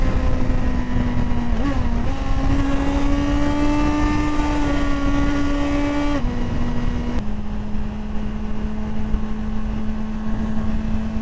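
A 2025 Suzuki GSX-R1000R sportbike being ridden, a loud close inline-four engine droning steadily with pitch rising and dropping through gear changes, wind noise underneath.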